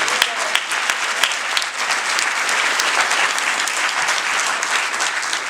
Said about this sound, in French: donc vous pouvez les applaudir, ils font un travail extraordinaire.